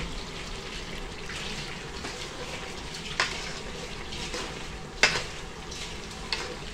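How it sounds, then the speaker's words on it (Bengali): Snakehead fish frying in a spiced masala, a soft continuous sizzle with occasional sharp clinks of a utensil against the pan, fairly quiet and without talk. "শোল মাছটা দিয়ে কিছুক্ষণ টাইম কষায় নিব।"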